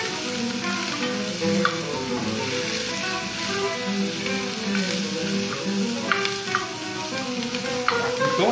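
Chopped onion frying in a pot as the base for a Russian beetroot borscht, a dense continuous sizzle with occasional stirring clicks, loud and close, no talk over it.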